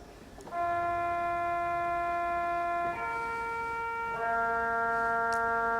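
A pipe organ reed stop with tremulant plays sustained reedy chords with a gentle, wavering tremolo, changing harmony twice and holding each chord steadily, in the Pitt St Uniting Church.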